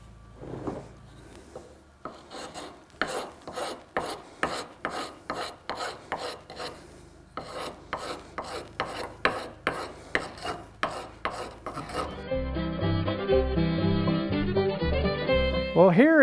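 A rasp removing wood from a tomahawk handle so the head will fit, in a steady run of rhythmic scraping strokes, close and fairly quiet, ending in a brief higher metallic scrape.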